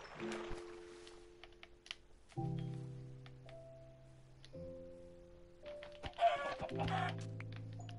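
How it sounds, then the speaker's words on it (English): Minecraft chickens cluck in a few short, tonal bursts over faint computer keyboard typing, fairly quiet and spaced apart. "Since when does chickens spawn here already?"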